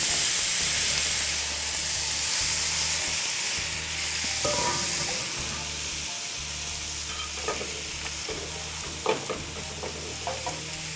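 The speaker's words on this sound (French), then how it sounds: "L'important quand on fait sauter des pommes comme ça, c'est de ne pas y toucher tout de suite." Apples sauté untouched in a very hot pan, giving a continuous close sizzle and steamy hiss. A low hum runs underneath, and a few small pops and clinks come through as the sizzle gradually eases.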